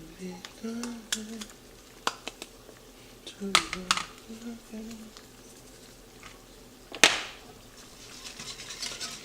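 A spoon stirs seasonings, including Accent, through a pot of sauce, giving scattered scraping clinks and taps against the pot's side while a voice talks throughout.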